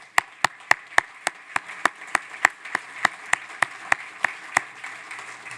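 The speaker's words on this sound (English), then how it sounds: "can we give a round of applause to our sponsors?" Around twenty sharp, evenly spaced claps ring out one after another in a conference hall, a single clapper or a small sparse group rather than a full crowd, each clap crisp and close.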